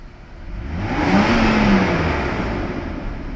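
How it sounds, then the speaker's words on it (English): A Mercedes 600SL engine revs under throttle, swelling from a low hum to a loud whirring peak and easing back down, heard close and alone. "I'm gonna show you one more time by showing my foot on the gas."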